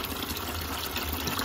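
Water drains from the 3/4-inch drain valve of a Weil-McLain steam boiler, a steady, close rushing gush without pause.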